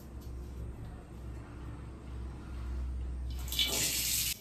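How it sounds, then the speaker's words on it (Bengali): Water is poured into a homemade hair-growth shampoo mixture, a faint trickle that swells into a brighter splash near the end over a low background rumble. "এবার একটু জল দিয়ে দেব।"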